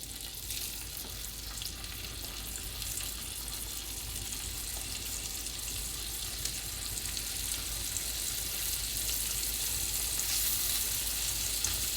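Venison tenderloin steaks sizzling in a hot pan, a loud, dense, unbroken frying hiss that holds steady throughout, close and with no voices.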